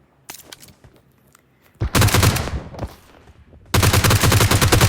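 Bursts of automatic gunfire in the shooter game PUBG, rapid loud volleys in two long stretches after quieter scattered shots, close and dominant with brief lulls between.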